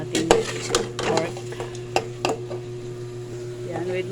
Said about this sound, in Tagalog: so gisa lang natin ang ating pork.